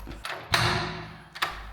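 A door opens in a house with a garden, first with a soft knock, then a louder thud and a long hiss as it swings, and another thump at the end, heard up close.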